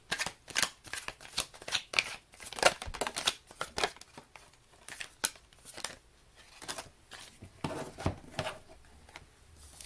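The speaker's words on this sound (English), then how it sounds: "Let's get some tarot cards here for Ophiuchus." Tarot deck being shuffled by hand, a run of crisp papery riffles and flicks in uneven bursts, close and fairly quiet, with no talking.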